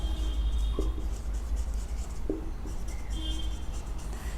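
Pen or marker writing on a board or paper during a chemistry lecture on empirical formulas, a few faint scratchy strokes heard against a steady low room hum with no talking.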